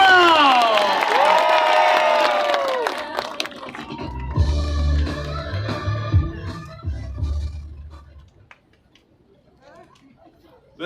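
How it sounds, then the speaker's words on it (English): A live audience at a speaking event cheers, whoops and claps loudly for several seconds amid crowd chatter, the roar fading into low murmurs and scattered voices before dying away near the end. "Let's give David another round of applause"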